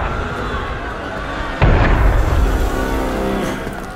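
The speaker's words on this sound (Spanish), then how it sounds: "Ese fue un cañonazo." A single sharp cannon shot booms out in Assassin's Creed Unity, a loud burst about midway that sits over constant game ambience and rumble.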